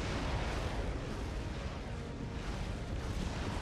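Defense towers in the video game Defense Grid 2 fire continuously, making a dense, rumbling wall of overlapping blasts with no clear breaks, moderately loud throughout.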